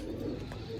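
Pigeons on a city rooftop give a short, soft low coo, heard faintly on its own with no talking.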